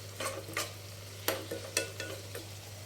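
Tomato pieces softening in a pan for a quick tomato curry, a low steady sizzle broken by about six distinct spoon scrapes and stirs, with a constant low hum beneath, no speech.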